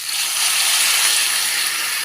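Steady loud hiss of water poured into a hot cooking pot for tamarind sinigang, a sustained sizzling rush that holds evenly for about two seconds before cutting off.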